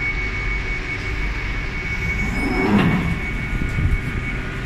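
A London Underground Northern line train rumbles along with a steady high whine, its roar swelling briefly as it passes close, then settling back to a low drone.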